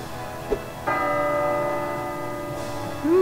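A bell in the video game Szymek Czarodziej 3D strikes once with a bright metallic clang and rings out in a long, sustained, slowly fading tone, loud and alone, a second strike starting at the end.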